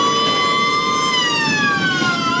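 Wailing fire truck sirens arrive at a burning two-storey house of light materials in San Ildefonso, Ilocos Sur, a loud, steady tone slowly falling in pitch, with no talk.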